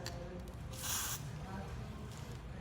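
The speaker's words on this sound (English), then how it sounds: "So I spray under and on top" A short burst of Got2b aerosol hair spray hisses for about half a second against a quiet room, with a faint second puff near the end.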